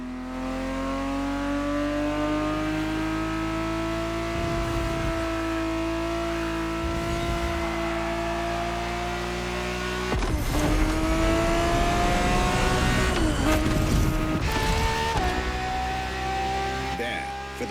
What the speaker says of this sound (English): GTB4 is the perfect vehicle for you to experience Ferrari racing as it felt back in the 70s